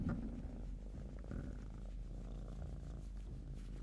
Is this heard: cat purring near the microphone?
yes